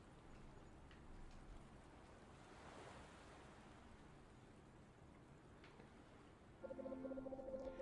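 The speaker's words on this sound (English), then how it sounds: "From the silence, the crashing of waves." Ocean waves crash and wash in a steady, full-band roar through a beach scene in the video game Anodyne 2, alone and moderately loud, with a faint tonal chime entering near the end.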